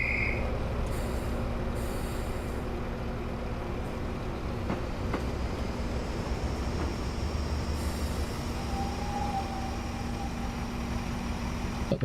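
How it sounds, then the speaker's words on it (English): A freight train rolls past with a steady rumble and wheel clatter in Train Simulator Classic on a Welsh line, with a faint squeal partway through, continuous and fairly loud, with no speech. "Is that the world's shortest freight train?"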